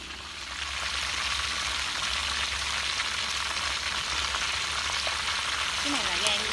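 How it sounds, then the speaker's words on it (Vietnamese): Offal (liver and heart) frying in a pan, a steady dense sizzle and crackle that runs loud and unbroken throughout, with faint stirring near the end. "Bây giờ mình sẽ chiên luôn bộ đồ lòng của nó nha mấy bạn."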